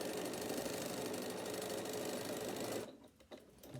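A sewing machine stitches back and forth, back tacking the seam of a fabric bag, running steadily and loud for nearly three seconds before stopping, followed by a few faint handling sounds.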